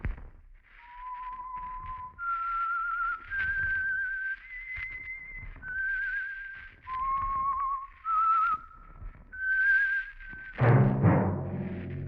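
A sequence of clear, sustained whistled notes stepping up and down in pitch, the signal tune of a 1946 radio drama, ending in a brief burst of noise.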